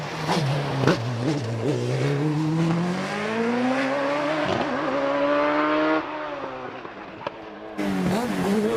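A Hayabusa-powered Force TA race car on a hillclimb run, its high engine note climbing through the gears with sharp shifts and brief tyre squeal, loud and close, with a short gap before the engine returns.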